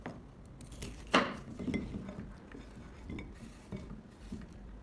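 Kitchen knife cutting seeded, halved peppers into small pieces for pickled cucumbers, with a few sharp clicks of the blade on a board and light clatter of utensils, close and moderately quiet, no voices.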